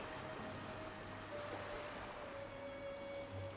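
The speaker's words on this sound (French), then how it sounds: "tout en écoutant le son des vagues." Soft, steady wash of ocean waves on a beach, continuous and fairly quiet with a faint high tone running through it.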